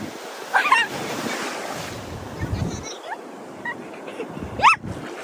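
Sea waves wash onto a beach with a broad rushing surge that swells and fades, while a dog whimpers and barks in short bursts and voices speak nearby.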